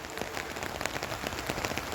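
Light rain patters on surfaces in an outdoor town setting, a steady hiss broken by scattered close drips and taps, moderately loud and with no talking.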